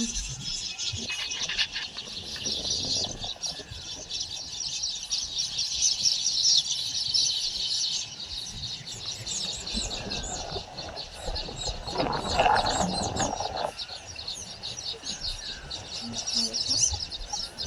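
A flock of sparrows chirps and flutters over a rice field where grain has fallen, a dense, continuous chatter of many small birds close by, with a voice speaking briefly partway through.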